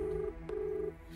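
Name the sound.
telephone call being dialed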